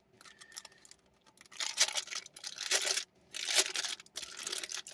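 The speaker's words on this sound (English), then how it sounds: "Sorry for the crinkling." Plastic packaging from a UV resin kit crinkles and rustles in bursts as measuring cups and stir sticks are pulled out, close and fairly loud, with short pauses between crackling handfuls.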